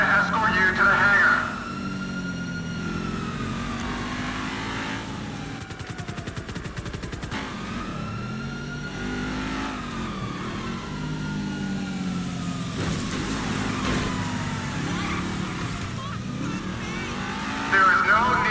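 Car engine revving and wailing in GTA 5 as the vehicle swerves erratically, pitch sliding up and down repeatedly, with voices talking over the driving and sharp crackling noises midway.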